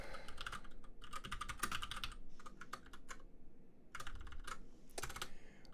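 Code is typed on a computer keyboard in quick clusters of close keystrokes with short pauses between bursts, faint and alone without speech.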